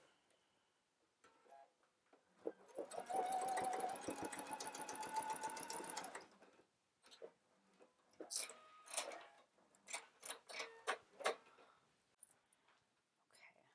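A sewing machine bastes the side seam of a skirt, running steadily for about three seconds, with quieter handling sounds and brief bursts afterward.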